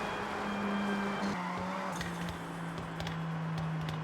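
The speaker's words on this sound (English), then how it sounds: "Maybe we should start drifting a little bit." Car engine in Forza Horizon drifting and skidding through Tokyo streets, a steady droning engine tone with faint tire noise running continuously at moderate volume.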